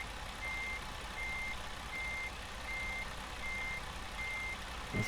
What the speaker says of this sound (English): let's take her out of reverse so you don't have to hear that beeping